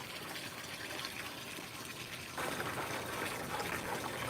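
Water pours and gushes steadily into a pool outdoors in Queensland, a continuous splashing rush that grows slightly louder partway through, close by, with no talk.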